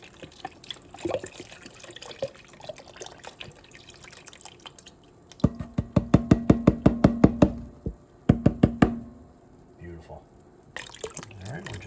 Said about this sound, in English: Adding a little bit more water, say maybe half a container or so.